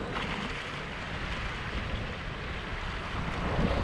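Sea waves and wind at Nahariya beach in Israel make a steady, fairly quiet broadband wash with gusty wind buffeting the microphone throughout, no voices present.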